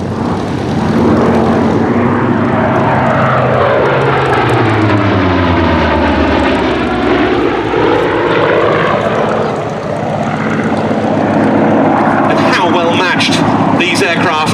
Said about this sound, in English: What a close coupled display of speed and power from two aeroplanes.